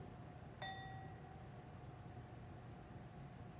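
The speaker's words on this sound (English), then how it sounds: "If I smack a wine glass, listen carefully." A wine glass is smacked once, giving a sharp clink followed by a clear ringing tone that sustains and slowly fades over a quiet background.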